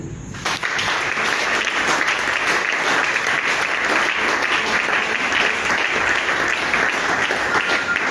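A church congregation at a Marian grotto applauds to acclaim God, sustained dense clapping that starts abruptly and holds steady and loud throughout, with no talk over it.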